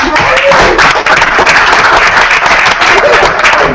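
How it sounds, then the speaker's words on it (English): Loud, steady applause from a crowd, dense clapping filling the whole stretch without letting up. "And a round of applause for the team."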